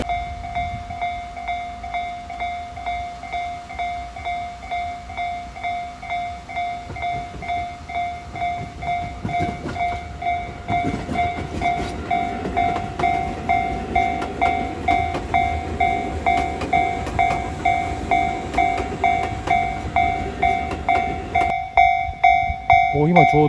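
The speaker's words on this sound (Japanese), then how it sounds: "今ちょうど日光線に入る特急スペーシャーが来ましたね。" A Tobu Spacia limited express train arrives on the Nikko Line at a complex junction station, rumbling louder with rhythmic wheel clatter over points and a steady tonal motor whine, ending in a brief pause.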